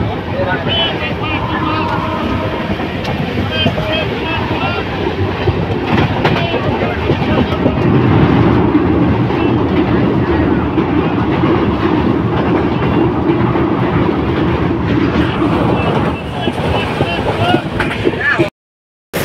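Heard from inside a crowded carriage, the Amarnath Express rumbles loudly and steadily along the rails with rhythmic clatter, then cuts off abruptly at the very end.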